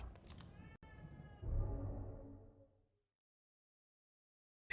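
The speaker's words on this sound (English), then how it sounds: "I hear you, kitty, I hear you." A cat meows in the horror video game The Evil Within 2, a few drawn-out cries in the opening seconds that fade out, followed by silence.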